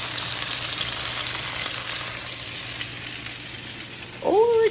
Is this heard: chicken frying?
yes